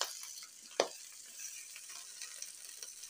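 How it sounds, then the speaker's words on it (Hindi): Fish liver frying in a pan with chopped boiled potatoes gives a soft, steady sizzle, with one brief clink of a utensil early on. "अब मैं 2 मिनट तक इसके साथ फ्राई कर लेती हूँ।"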